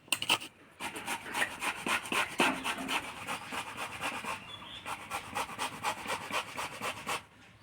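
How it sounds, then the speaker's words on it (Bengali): Taro being grated by hand on a grater for fritters: steady rhythmic rasping strokes, close and fairly loud, continuing throughout with no talking. "কচুটা ঘষনি দিয়ে ঘষে নিলাম"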